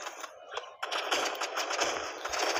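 Rapid gunfire in the Roblox shooter Rivals, a quiet opening burst followed by dense, fast automatic shots that keep going.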